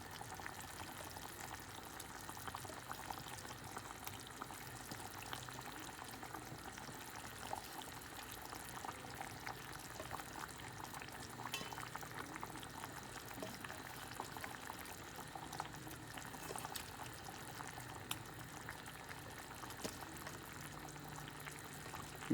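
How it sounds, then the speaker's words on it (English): Kerala fish curry gravy bubbles softly with fish pieces in it, a faint, even simmer that goes on steadily for the whole stretch. "So I've started actually placing my fishes into this boiling gravy."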